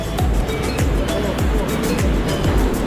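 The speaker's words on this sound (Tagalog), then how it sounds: "kami po ay hinahampas ng alon" Ocean waves surge and crash over people in the water off New Zealand, a steady loud wash of surf with repeated heavy low thumps roughly every half second.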